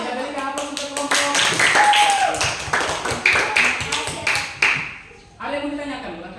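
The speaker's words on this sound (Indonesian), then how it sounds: "kita berikan aplaus untuk kelompok" A classroom of students applauding a student group, a burst of scattered hand clapping that builds and continues for several seconds, with talk mixed in near the end.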